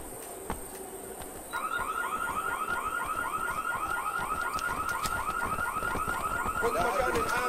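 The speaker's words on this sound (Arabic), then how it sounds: "أطلق الإنذار." In the video game IGI-2, at a villa, a rapidly cycling electronic alarm starts after a brief quieter stretch and wails steadily and loudly to the end, over a low rumbling background.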